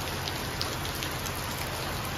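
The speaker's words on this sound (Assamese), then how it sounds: "এতিয়া বেলেগ বৰষুণ মাৰিছে দেই" Heavy rain pours steadily, a dense continuous hiss of drops drumming on surfaces with no pauses and no talking.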